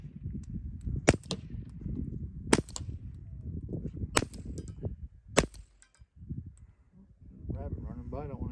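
A .22 LR rifle fires through a Nelson Precision Little Spoon silencer outdoors. It makes four or five sharp, muted cracks spaced a second or more apart, with some background noise between shots and a voice near the end.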